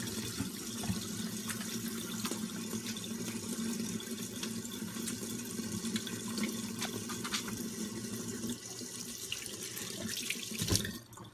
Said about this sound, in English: most importantly, we wash our hands